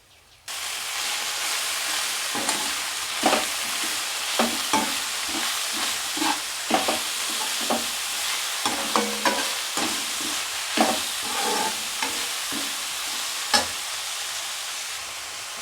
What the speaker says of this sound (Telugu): పచ్చివాసం పోయేలాగా వేయించుకోవాలి మెంతాకు పుదీనా కొత్తిమీర వేసుకుందాం